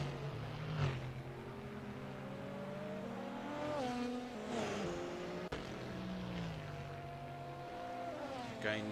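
GTE and GT race car engines, including a yellow Corvette, howl around the Nürburgring in a sim racing game, with several cars close together whining up and down through gear changes under commentary.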